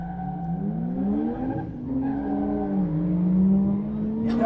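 A BMW and a Toyota Chaser drift cars slide around a track, engines wailing with gliding revs while tires squeal in long sustained skids, loud and fairly close, ending with a sharp burst.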